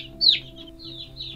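Nineteen-day-old chicks cheep in high, sliding peeps, one louder call followed by softer repeated chirps, close over a steady low hum.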